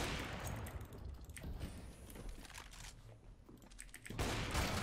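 Gunfire in the video game CS:GO: bursts of rapid shots crackle in clusters through the clip, with a louder volley near the end, and no voices.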